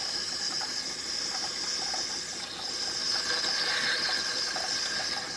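A Gaggia espresso machine, just repaired for a door leak, pumps water from its tank in a steady, continuous mechanical hum with a hissing flow, moderately loud and close, with no talking.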